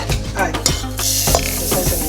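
Sesame seeds being stirred quickly through hot caramel in a pan over a lowered flame for Ugandan simsim snaps, giving a continuous close scraping and sizzling with brief clinks of the utensil.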